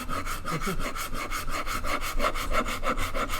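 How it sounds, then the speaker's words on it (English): A Shinto rasp with its handle broken off shapes wood, giving a steady run of rhythmic scraping strokes, close and moderately loud with no voices. "I'm just using a Shinto rasp. A Shinto rasp with the handle broken off."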